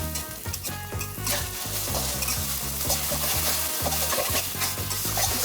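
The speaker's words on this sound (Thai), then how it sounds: "ทีนี้ก็คั่วเลยครับ ให้ไข่เขาสุก" Egg sizzling and frying in a hot wok, with a spatula scraping and stirring steadily throughout, loud and close.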